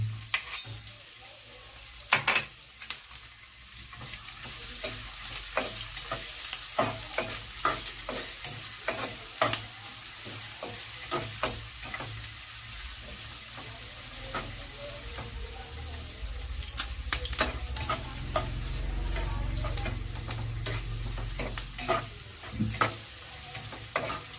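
Onion sizzles in a frying pan with garlic while being cooked for pork giniling with egg, a continuous close fry crackle punctuated by frequent sharp scrapes and taps of a spatula, with no voice over it.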